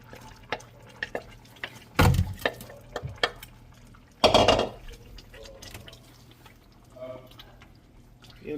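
Liquid poured into a pot of cabbage soup vegetables in a home kitchen, two short splashy bursts with soft stirring and clinking between them, close and moderate in level.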